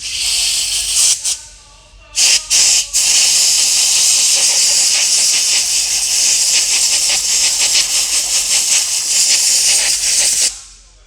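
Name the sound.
air blower blowing out car computer terminals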